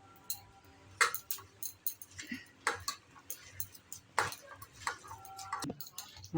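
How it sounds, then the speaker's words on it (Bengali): Fish roe batter being kneaded by hand with gram flour in a bowl gives wet squelching and scattered clinks against the vessel, irregular and close, with no talk. "এবার হাত দিয়ে ভালো করে মাখবো"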